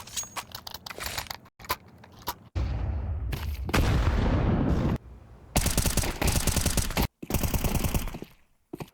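MP9 submachine gun fire in a Counter-Strike match, heard as rapid, close, sharp bursts broken by brief gaps, with a heavier blast and rumble in the middle.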